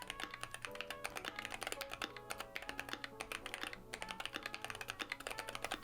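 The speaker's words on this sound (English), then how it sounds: "This was the first keyboard that I customized, replacing the plate and adding the Tempest tape mod to alter the sound." Fast, steady typing on a customized mechanical keyboard with a swapped plate, changed switches and Tempest tape mod, producing dense, crisp, close clacks with a muted, deep thock to each keystroke.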